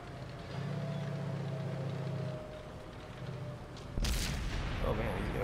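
A tank cannon fires in the World of Tanks video game, one sudden loud blast near the end after a low rumbling engine drone, with a voice talking over it.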